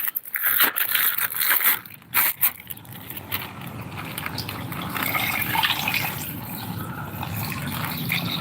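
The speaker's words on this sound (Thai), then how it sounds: "แล้วเขาก็ซื้อมาเทน้ำกะทิ" Coconut milk pours steadily with a soft, continuous splashing after a few brief clinks and rustles at the start.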